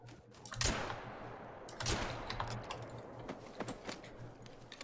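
Two shotgun blasts at a flushed pheasant in the hunting game The Hunter, the first sharp report followed a little over a second later by a second, each trailing into a decaying echo over steady low background hum.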